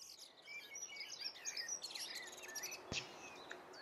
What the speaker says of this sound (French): le soir, les fringiles aiment se regrouper en dortoir dans les arbres, comme ici les verdiers et les pinsons